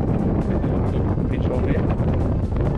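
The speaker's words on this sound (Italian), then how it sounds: "perché abbiamo un vento" Strong wind buffets a sea cliff in the Faroe Islands, a loud, continuous roaring rumble that pushes hard against the microphone for the whole stretch, with no clear voice above it.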